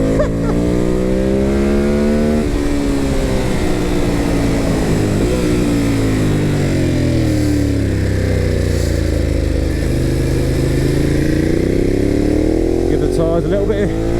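A Ducati Hypermotard 950 SP engine revs, climbing and falling in pitch several times as it accelerates, loud and close, with a rider's voice talking over it.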